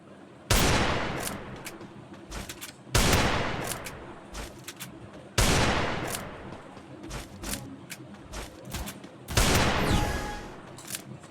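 Desert Eagle pistol shots ring out in the video game Free Fire: four loud, sharp blasts at intervals of about two to three seconds, each with a decaying tail, mixed with quieter clicks and game sounds.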